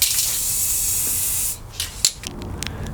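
A spray can lays down a coat of paint with a loud continuous hiss for about a second and a half, then stops, followed by a few soft clicks and handling noises.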